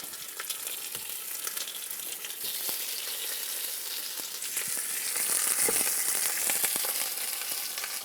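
Pieces of birria meat sear in very hot, smoking neutral oil, producing a dense, continuous crackling sizzle that swells slightly louder toward the end, close and unbroken by speech.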